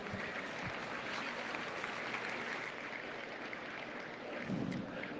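A crowd at a county 4-H beef cattle show applauds, a broad, even rush of clapping heard from a distance in a large arena, with a brief voice near the end.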